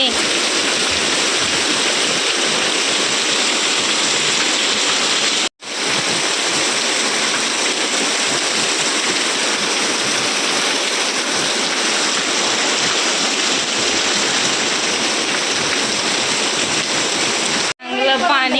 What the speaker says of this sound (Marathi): आमच्या इथं चांगला जोरदार पाऊस चाललाय